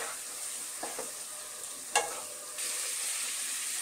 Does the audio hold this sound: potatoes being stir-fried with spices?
yes